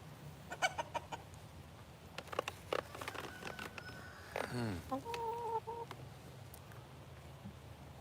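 Chickens cluck and squawk nearby in short bursts, with a rooster-like call rising in the middle over a quiet outdoor background.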